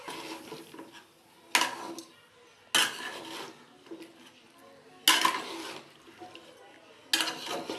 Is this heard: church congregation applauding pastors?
no